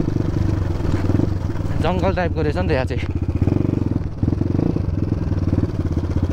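An enduro motorcycle rolls along an off-road forest trail toward Dhap Dam in a national park area in Nepal, its engine a steady close-up drone throughout while someone talks over it partway through.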